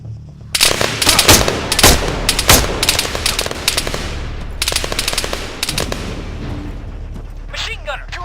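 A machine gun fires in the ArmA 3 military video game in loud rapid bursts with sharp cracks, then rattles on steadily with a brief pause. A voice speaks over the gunfire near the end.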